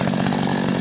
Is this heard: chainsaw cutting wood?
yes